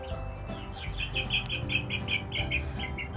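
Birds on a farm, likely chickens, making noise indoors: a run of repeated clucking calls in quick rhythm over a low mechanical hum, moderately close and fairly faint.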